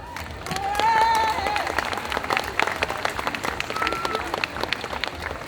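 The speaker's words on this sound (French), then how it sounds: "Je vous demande d'applaudir Camélia" A crowd applauds a contestant at a group cosplay competition at the Japan Addict Z 2022 convention: dense, steady clapping swells early, then carries on evenly, with a few whistles and cheers near the start.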